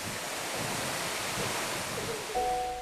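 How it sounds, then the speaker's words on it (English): Water pouring down from above onto a path between the Andes in Bolivia, a continuous broad rushing roar with wind-like noise, steady and close, with a brief tonal sound near the end. "a lot more water comes down from above than the sisters would like"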